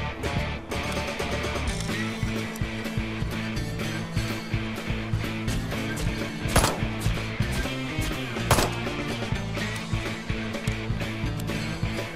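Gunfire in the motorcycle-gang action game Ride to Hell: Retribution, with loud sharp shots cracking out at intervals over a dense, busy bed of game sound and music throughout.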